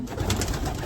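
Racing pigeons coo softly in a loft, low throaty murmurs repeating close by with no talking over them.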